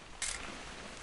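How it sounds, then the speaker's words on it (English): An old camera takes a picture in the video game What Remains of Edith Finch: one crisp mechanical shutter click early on, then a quiet background. "Just want to get a shot of you, Dawn, then we can take off."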